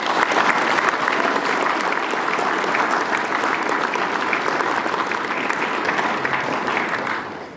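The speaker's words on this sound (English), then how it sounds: "could we please give him a round of applause?" A school assembly audience applauds a league nationals finals MVP with steady, dense clapping that holds at full strength for about seven seconds before tapering off at the end.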